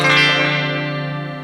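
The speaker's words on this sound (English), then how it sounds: "we've selected a plate reverb" A sustained electric guitar chord through a Diezel VHX amplifier rings out with a lush, smooth plate reverb tail, slowly decaying.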